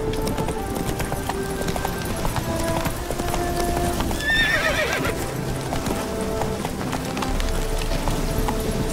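Roach, Geralt's horse in The Witcher 3: Wild Hunt, gallops with a fast, steady clip-clop of hooves close by, broken by a loud neigh midway, with faint background game sounds.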